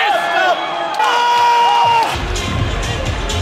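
A Czech crowd roars and cheers at an Oktagon 40 MMA fight, a loud, dense wall of shouting and whooping with rising yells and whistles, swelling into a broad roar in the second half.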